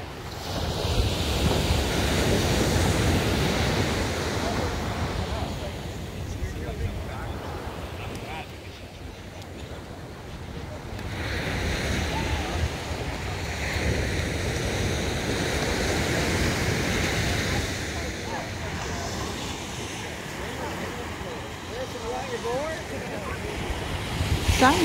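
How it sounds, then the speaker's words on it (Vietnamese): Ocean surf rolls onto a California beach with a continuous broad wash and gusty wind buffeting the microphone, swelling and easing in long waves. "Mình quay một vòng biển cho các bạn coi ha."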